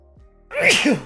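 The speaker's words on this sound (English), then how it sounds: "hold on, I gotta sneeze" A single loud sneeze up close, a short breathy wind-up bursting into a sharp, hissy explosion that trails off.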